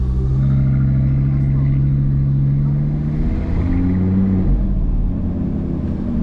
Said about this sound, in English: it doesn't sound like a car. I mean, it does sound like a car, but it's a very loud car. It's kind of like this thundery sound.